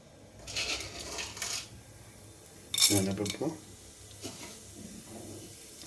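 Urad dal is tipped into hot oil in a cooking pan, making a brief rattling clatter and quick hiss midway, with softer pan clinks and faint background sounds around it.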